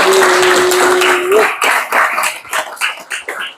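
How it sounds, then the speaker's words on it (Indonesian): Students clapping hands in unison during an Arabic grammar lesson at an Islamic boarding school, a sustained burst that breaks into distinct rhythmic claps, loud and close. "Tepuk tangan adik-adik."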